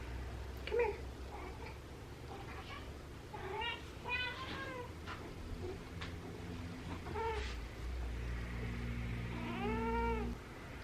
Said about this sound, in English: And now I have wonderful cats to entertain me.